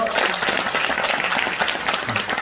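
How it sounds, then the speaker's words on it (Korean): A forum audience on history textbooks gives steady, dense applause to welcome a speaker, continuous clapping at an even level with a faint murmur of voices beneath. "박수로 맞이해 주시죠."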